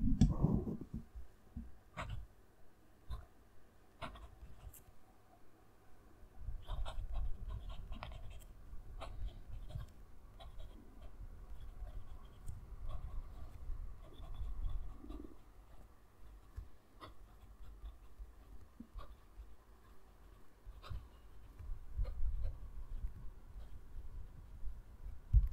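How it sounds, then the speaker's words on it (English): A red-inked fountain pen with a 1.1 stub nib scratches across paper close to the microphone, a long run of soft scritching strokes and light ticks with brief pauses between words, quiet and without talk. "I'll have the mic next to the page so you can hear the pen writing"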